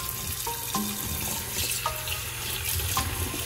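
Running tap water rinsing boiled taro to cool it, a steady splashing stream in a sink with occasional clinks and knocks, no talking.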